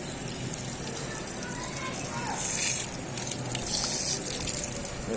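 Water gushes steadily from a deep-well motor pump, a continuous rushing flow that swells slightly midway, with a person speaking over it.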